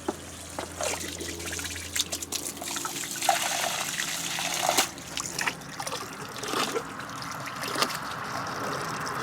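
Spring water trickling out of the ground on a slope, a soft, uneven dribble and splash with intermittent brighter spatters, close and fairly faint.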